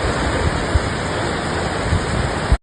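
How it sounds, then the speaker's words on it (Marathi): Heavy monsoon rain pours steadily near a flooded river in Chiplun, Konkan, a dense, loud, unbroken roar of water with no voices, ending abruptly. "मुसळधार पाऊस चालू आहे"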